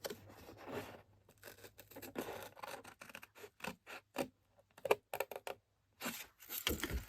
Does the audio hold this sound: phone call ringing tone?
no